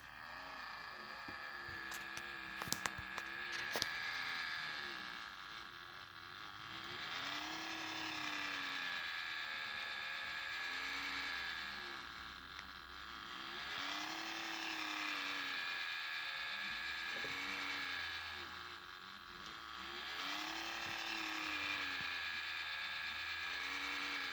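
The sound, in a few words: Telco animated Winnie the Pooh toy motor running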